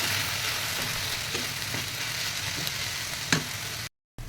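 Vegetables frying in a pan with turmeric, a continuous close sizzle broken by soft stirring scrapes and one sharper clack near the end before a brief cut to silence.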